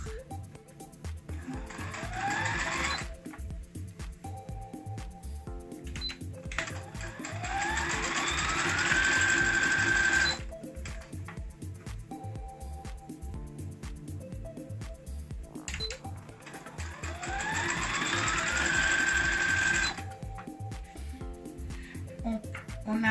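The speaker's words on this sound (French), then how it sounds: "Après, je vais coudre tout ici à 1 cm." A sewing machine stitches fabric for a beret in three separate bursts of fast, whirring mechanical rattling, each lasting several seconds, with quieter pauses between runs.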